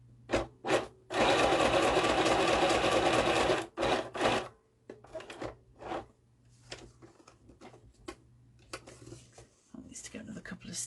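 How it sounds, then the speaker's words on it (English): A sewing machine stitching a small sewn mini runs in a long continuous burst, then a few short bursts follow with quiet handling sounds in between. "I'm hoping you'll be able to see what I'm doing on the sewing machine."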